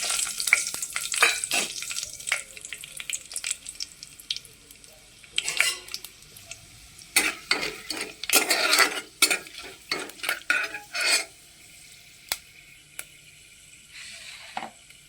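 Whole spices crackle and sizzle in hot oil in a pan, with busy popping and scraping stirring strokes, louder in bursts and close by, while a voice speaks softly in the background.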